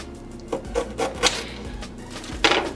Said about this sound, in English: Now I'm also going to grate a little bit of ginger.